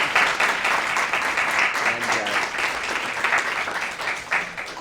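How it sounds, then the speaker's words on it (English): Steady audience applause at the final round of a law moot competition, honouring student volunteers, a continuous wash of clapping from a sizeable crowd for about five seconds. "So just ask everyone to give a round of applause for all the student volunteers."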